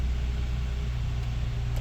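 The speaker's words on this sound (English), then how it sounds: "You start the car for a little bit to cycle the oil," A third-generation Toyota Sienna minivan engine idling just after starting, cycling fresh oil after an oil change; a steady, even low rumble continues unbroken throughout, with no voices.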